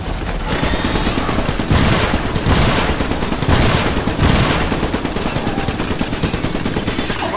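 Sustained rapid gunfire from the video game Iron Brigade, dense automatic bursts firing continuously and loudly, with several heavier volleys swelling through the stretch.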